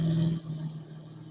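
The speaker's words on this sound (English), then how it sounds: "I don't recall this Camaro ever sounding like aggressive at low revs." A Chevrolet Camaro in the racing game The Crew 2 idles at low revs with a faint, steady engine drone that dips slightly partway through the short stretch.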